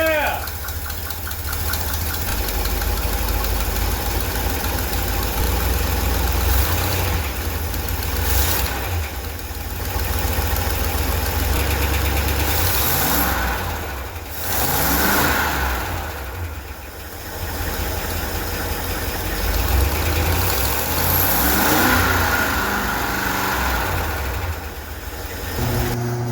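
A 1976 Ford F250 Highboy pickup's engine runs steadily throughout, a loud, rough idle with knocking and occasional revs, and people talk over it.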